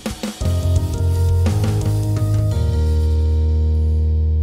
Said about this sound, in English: it's a Windows sound redone